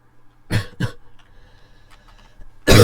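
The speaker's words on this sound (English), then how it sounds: "the coughing is still prevalent somewhat" Close, loud coughing in what sounds like an IKEA store: two sharp coughs, a short lull with faint background murmur and small noises, then another heavy cough at the end.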